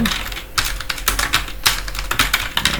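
Rapid, uneven keystrokes clatter on a computer keyboard, close and crisp, in short bursts with brief pauses between them and no talking.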